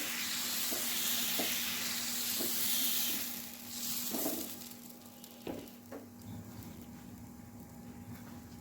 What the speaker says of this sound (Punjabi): ਹੁਣ ਅਸੀਂ ਇਹਦੇ ਉੱਪਰ ਪਾਵਾਂਗੇ ਆਪਣਾ ਬੈਟਰ ਡੋਸੇ ਦਾ ਰੈਡੀ ਕੀਤਾ ਹੋਇਆ